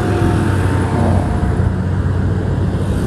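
A fast car passes from behind with a loud, broad, steady roar of road and engine noise, heard from a moving motorbike in city traffic in Tangerang.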